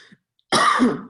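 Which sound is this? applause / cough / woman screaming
cough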